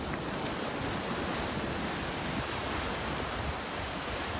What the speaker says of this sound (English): Little waves breaking out there on the sandbar.